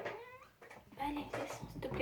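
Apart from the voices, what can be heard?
cat meowing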